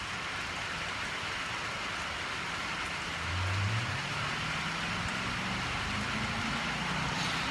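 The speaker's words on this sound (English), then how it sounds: "oh, here comes the rain." Steady broadband rain hiss, continuous and fairly loud, with a low engine-like hum rising faintly in the background partway through.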